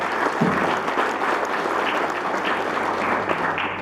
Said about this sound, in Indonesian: kita aplaus